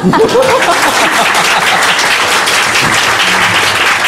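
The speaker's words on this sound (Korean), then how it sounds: "박수." A studio audience breaks into loud, dense applause for about four seconds, with a brief voice and scattered chuckles at the start before the clapping carries on alone.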